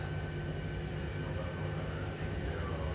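Inside an aircraft taxiing onto the runway for takeoff, a loud steady low rumble and engine drone fills the cabin, with faint bumps from the ground beneath.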